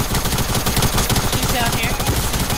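A SCAR assault rifle fires rapid repeated shots in a Fortnite match, loud continuous cracking blended with other gunfire and game noise, steady throughout.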